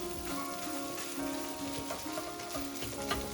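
Fried rice sizzles steadily in a pan with a soft, continuous crackle throughout, under faint tonal background sound.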